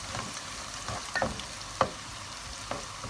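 Crushed garlic cloves and green chillies frying in a cup of oil for a dried-fish dish make a steady sizzle, with several sharp scraping stirs and clinks of the spoon against the pan.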